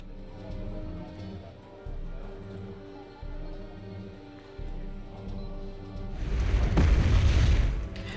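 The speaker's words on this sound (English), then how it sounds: "More artillery fire coming in from the AS-90 into Alpha." Artillery fire from an AS-90 self-propelled gun in the real-time strategy game Wargame Red Dragon lands as a heavy, rumbling blast near the end, over a low, droning game soundtrack with regular pulses.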